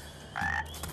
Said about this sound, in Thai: มีกบเพียบเลยนะเสียงดังด้วย โอ้นี่มันกองทัพกบเลยนี่